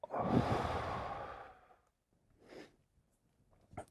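A single deep breath taken in a quiet room, a long soft exhale lasting over a second, followed by a faint second breath and a small click, close and intimate.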